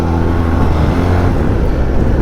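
A 2025 BMW R1300 GSA motorcycle ridden in fourth gear at about 80 km/h, with a loud, steady engine drone mixed with heavy wind rush, close and constant throughout.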